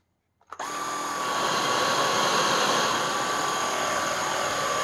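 A Kyvol V20 cordless stick vacuum's brush roll spins up from silence with a short clatter. It settles into a loud, steady, close whine with a high tonal hum that holds evenly to the end.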